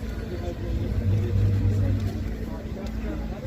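A 2006 wagon car with a 2.5 litre petrol engine runs at a used-car market in Khujand, giving a steady, close, low rumbling idle with a slight swell in the middle and a voice murmuring over it.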